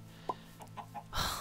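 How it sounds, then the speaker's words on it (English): Minecraft chickens clucking in the video game, a few short separate clucks followed by a louder burst, close and without talk. "I like those chickens."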